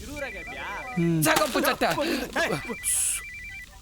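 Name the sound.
mobile phone ringing, wife calling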